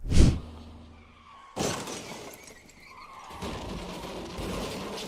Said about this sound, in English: Crashing a school bus into some boxes.